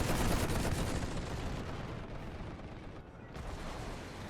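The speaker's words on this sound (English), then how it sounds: "enemy machine guns coming in" Enemy machine gun and cannon fire in The Great War video game, a dense continuous roar of rapid gunfire and booming shots with no clear gaps.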